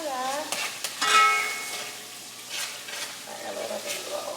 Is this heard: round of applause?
no